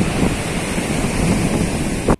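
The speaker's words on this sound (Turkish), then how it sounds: "Dalgaların yükselmesi ve savurmasıyla kayık denizde dik pozisyonda durdu." Storm waves surge and crash in a harbour where a small boat is being tossed, a loud, continuous roar of surf and wind buffeting the microphone throughout, with no voices.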